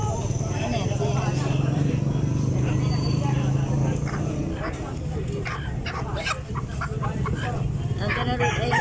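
Rhode Island and native chickens clucking in a farmyard in Lapu-Lapu City, Cebu, a steady low flock murmur with scattered sharper clucks, while people chat loudly over them throughout.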